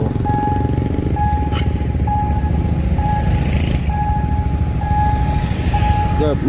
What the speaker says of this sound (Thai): ไม้กั้นลงแล้วก็ดังไปเรื่อยๆ